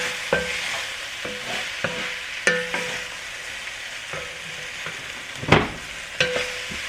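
Chunks of squash go back into a soup pot with herbs and spices and sizzle steadily, while occasional sharp knocks and scrapes from stirring sound close by.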